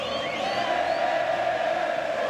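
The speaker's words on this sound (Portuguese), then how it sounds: "Torcedor do Grêmio aplaudindo a equipe, cantando." Grêmio supporters in a Brazilian stadium during a league match against Corinthians sing and applaud together, a broad, steady roar of many voices with a sustained chant tone, distant and continuous.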